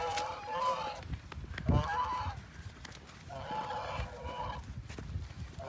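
A flock of ducks being herded along a water channel, making repeated nasal quacks in bursts over low shuffling and rustle, with a voice urging them along.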